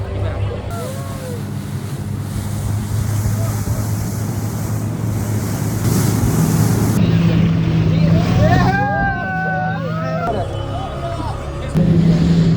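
A motorboat runs across Maithon lake with wind buffeting the microphone and water rushing along the hull, a steady loud roar throughout the ride, with a few bird-like whistles and brief voices mixed in.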